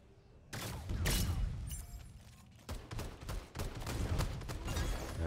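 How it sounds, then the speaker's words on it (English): Rapid bursts of gunfire from the Super Mecha Champions video game, repeated volleys of shots and sharp cracks stacking loudly over several seconds with brief gaps between flurries. "Already started shooting, but that was my teammate."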